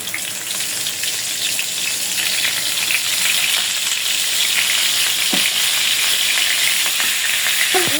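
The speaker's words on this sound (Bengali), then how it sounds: "প্রথমে আমি মাছের মাথাটা ভাজ্যে নেব" River catla fish heads frying in hot oil give a steady, loud sizzle throughout, with a few faint clinks of stirring.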